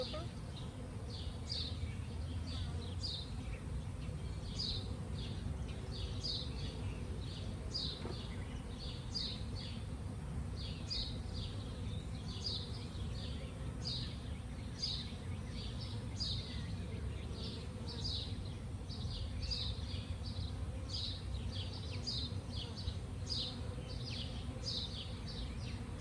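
A dense, steady drone of honeybees buzzing around a hive as a bee package is installed, with sharper buzzes of individual bees passing close, continuous throughout and without any talking.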